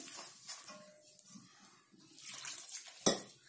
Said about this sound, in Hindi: ठंडे पानी को धीरे धीरे डाल करके इस तरीके से घोलेंगे